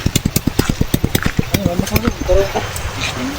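An overheating motorcycle engine with a broken-off chain putters in a fast, even rhythm of firing pulses, then turns rougher and breaks up as it dies, close and loud during heavy rain.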